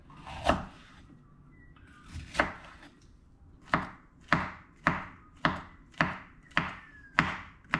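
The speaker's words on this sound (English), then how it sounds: "now I've got to chop my half capsicum pepper and my mushrooms in exactly the same way" Half a capsicum pepper and mushrooms are chopped with a knife on a board: a few spaced chops, then a steady run of about seven crisp, close strikes.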